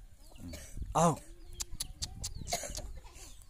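Chickens cluck and a rooster-like call rises briefly amid farmyard noise, heard under ongoing conversation.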